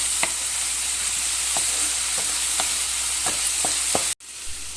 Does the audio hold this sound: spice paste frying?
yes